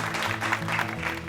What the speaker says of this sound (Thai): ขอเสียงปรบมือกับน้องเร็วเจน